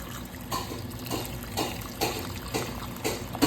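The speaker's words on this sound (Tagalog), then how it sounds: "lalagyan natin siya ng mainit na tubig para sa bagong pakulo na to" Hot water poured over cleaned beef in a cooking pot for bulalo, a steady close trickling splash with a few louder surges.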